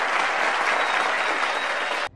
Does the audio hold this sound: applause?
yes